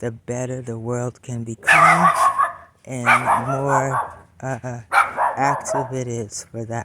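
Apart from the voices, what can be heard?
dog barking in a neighborhood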